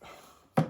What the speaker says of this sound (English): Gentle tap.